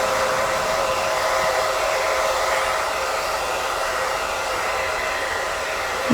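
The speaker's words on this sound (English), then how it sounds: "I'm going to just go ahead and proceed with the blow drying process." A hair dryer blows continuously at close range while straightening curly hair, giving a steady, even whooshing roar that never changes and has no talking over it.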